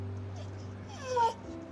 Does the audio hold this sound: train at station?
no